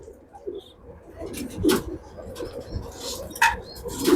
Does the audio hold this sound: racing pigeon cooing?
yes